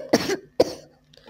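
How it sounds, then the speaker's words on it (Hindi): Two sharp coughs close by, one right after the other, followed by a faint trailing breath. "खांसी आ गई है ना आप?"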